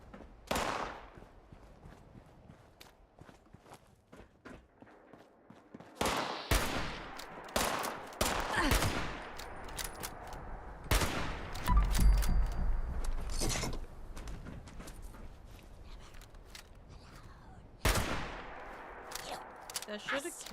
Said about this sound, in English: Shooting me, I'm sensitive.